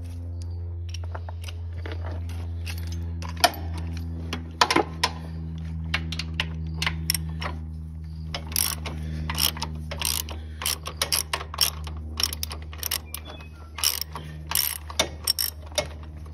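A ratchet works bolts loose on a Cub Cadet engine during removal, with repeated clicking pawl bursts and scattered metallic clacks over a steady low engine-bay hum, close and moderately loud throughout.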